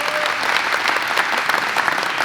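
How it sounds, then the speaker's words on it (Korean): A crowd claps steadily and densely at a Korean alumni association gathering, a loud sustained round of applause filling the room without a break. "큰 박수로 맞이해주시기 바랍니다."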